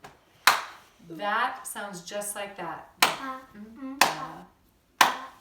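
Sharp hand claps ring out alone, some spaced apart and some held across a tied-note rhythm, with a person speaking between and around them.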